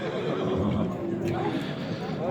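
Horses at a livestock market, a loud nearby whinny rising over a busy murmur of crowd voices, with people talking throughout.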